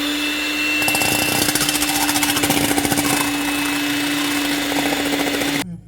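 Eggs beaten with sugar and a pinch of salt for a sathumavu cake, an electric mixer buzzing loudly and steadily with a rapid rattling pulse, running for several seconds before cutting off abruptly.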